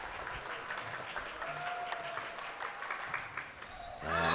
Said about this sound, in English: Crowd clapping through this last point.